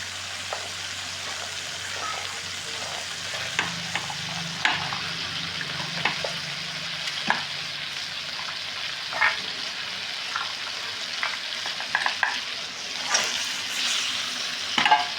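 Masala with peas and green chillies sizzles and fries in a pan for aloo dorma, with steady crackling and repeated stirring scrapes, no voices.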